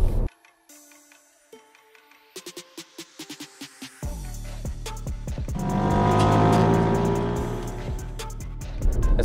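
A BMW M4 in sport mode, a loud engine note building from sparse clicks and pulses into a sustained, rising roar that swells toward the end with no talk over it.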